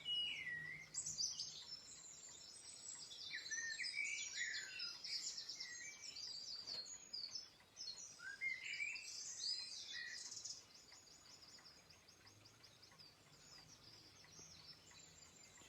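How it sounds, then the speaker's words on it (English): Birds sing outdoors, a dense stream of high chirps, trills and whistles from several birds at moderate distance, steady throughout with soft background hiss and no voices. "Just listen to the birds."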